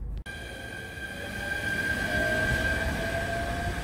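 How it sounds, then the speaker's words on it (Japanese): A Japanese 129-series electric train rumbles steadily as it pulls away from a seaside station, with sustained whining motor tones rising and fading over the noise of the cars. "129系の11時34分発の長岡行きの列車が行ったところです"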